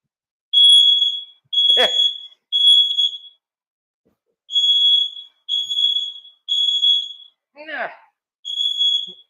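Smoke detector alarm sounding from a kitchen during Cajun roux preparation: a run of loud, shrill electronic beeps in evenly spaced bursts, with a voice briefly cutting in between them.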